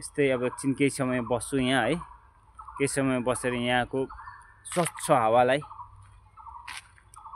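A turkey gobbles outdoors in three loud, rattling bursts with pauses between them, while someone talks quietly nearby.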